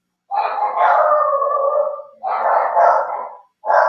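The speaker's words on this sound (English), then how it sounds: "And your dogs are going crazy again." Several dogs howl and bark loudly and close by in long sustained bursts, three drawn-out howling phrases separated by brief pauses.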